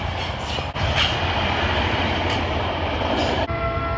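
Amtrak passenger train rolling slowly south on its approach, a loud continuous rumble of railcars with wheel squeal, clatter and a couple of sharp clunks, close by and without talk.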